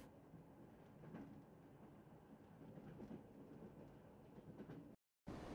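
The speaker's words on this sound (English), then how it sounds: "Surfing on a train." Train rolling along in the adventure game Secret Files: Tunguska, a steady low rumble with faint rhythmic clatter that runs continuously, cuts out briefly near the end, then resumes.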